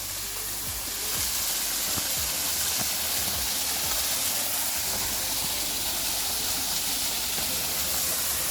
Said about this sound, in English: Mini waterfall, guys.